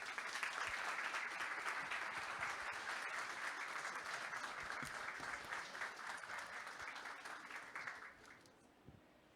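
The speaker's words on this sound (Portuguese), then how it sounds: "recebemos com uma calorosa salva de palmas o senhor Jorge" Warm, dense applause from an audience welcoming a speaker at a Portuguese-language lecture, many hands clapping steadily before the sound thins and fades out near the end.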